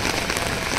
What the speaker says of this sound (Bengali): বৃষ্টিটা হয়ে সব মাটি করে দিল।